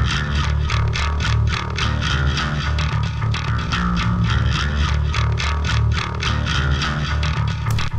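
Bass guitar line run through a distortion plugin for grit, playing a busy, rhythmic part with sharp, clicky pick attacks over a thick, steady low end, loud and alone.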